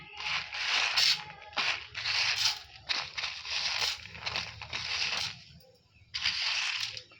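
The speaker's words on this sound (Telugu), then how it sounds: "అలానే ఆవాలు ఇవి కొంచెం చిప్పట్లాడుతుండగా కరివేపాకు వేద్దామండి." Urad dal and mustard seeds crackle and pop in hot oil for an eggplant fry, giving a close, irregular spattering with bursts of bright crackle and short lulls between them.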